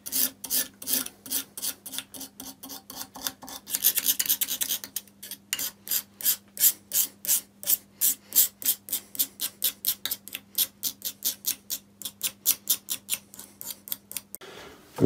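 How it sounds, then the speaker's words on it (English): Scratching up the surface of a Myford lathe saddle, a long series of sharp, close rasping strokes in a steady rhythm, each stroke a distinct scrape, with no talking. "now I want to scratch up this surface as much as possible"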